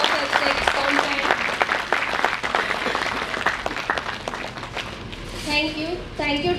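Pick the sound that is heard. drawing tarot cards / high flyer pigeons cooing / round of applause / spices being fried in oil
round of applause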